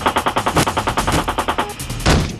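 Machine gun fire from a helicopter in Iraq fires as a rapid, loud burst of evenly spaced shots close by, ending abruptly after about two seconds and followed by a brief heavier thump.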